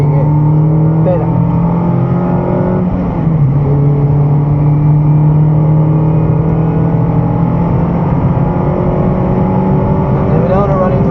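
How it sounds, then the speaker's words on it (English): A car on the Broadford race track drones through its engine note, the pitch climbing as it accelerates, with a voice talking over the steady motor. "Now you can accelerate, but squeeze it."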